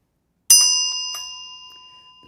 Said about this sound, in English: And I have a new bell for the bell song.